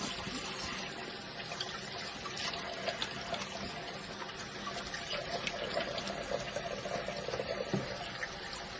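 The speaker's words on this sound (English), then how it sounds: "And now I'm just gonna rinse off, and you're about to see." Tap water runs steadily into a bathroom sink while a face is rinsed after using a melting cleansing balm, a continuous close splashing trickle with no talk.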